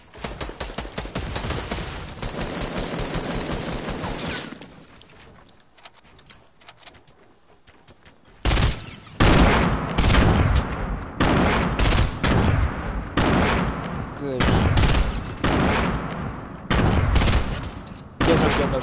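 Video game gunfire in dense bursts, rapid automatic volleys and overlapping shots that drop to a near lull mid-way, then return loud and sustained in repeated long bursts.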